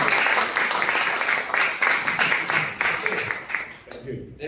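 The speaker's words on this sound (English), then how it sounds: "He deserves a bigger clap." Audience clapping at a book launch event, a full burst of many hands with a loose, fluttering rhythm that thins out toward the end, with someone speaking over it.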